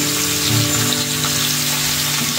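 Mixed vegetables seasoned with salt fry in a hot pan with cumin, making a loud, close, steady sizzle that hisses continuously with no talking.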